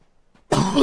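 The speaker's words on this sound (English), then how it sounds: "Hence the cough." A video game character in Like A Dragon: Pirate Yakuza gives a single short, loud cough that breaks out abruptly after near silence.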